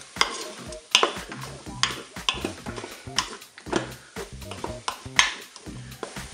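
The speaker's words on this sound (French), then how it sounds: "Et je mélange bien sûr le tout." Shrimp and surimi with parsley get stirred in a Cookeo pot, a steady run of close scraping and knocking strokes in a regular rhythm over a light sizzle.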